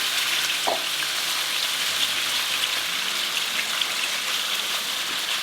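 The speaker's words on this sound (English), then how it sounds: "first we're gonna slightly fry the tofu. I'm roughly adding about 3 tablespoons of ghee." Tofu slowly frying in about three tablespoons of melted ghee over low to medium heat, a steady, even crackling sizzle with no talking.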